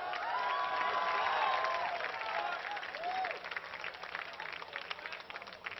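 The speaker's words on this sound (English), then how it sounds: "Let's make some noise rounding off the squad for Flamesword" Crowd at a Major League Gaming national final in Dallas cheering and applauding as a team is introduced, a broad wash of clapping and shouts with an announcer's voice over it, fading a little toward the end.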